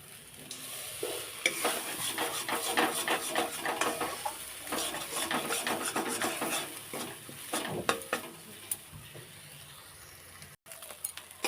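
Vegetables for a mashed vegetable bhorta fry in oil while being stirred, producing a quiet, busy stream of spatula scrapes and clinks over a steady sizzle, with no talking.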